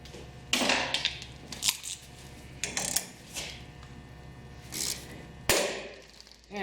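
Metallic ratcheting clicks from a wrench tightening a tie rod end puller on a Toyota steering knuckle, several bursts of sharp close clicks with short pauses, ending in a louder abrupt snap.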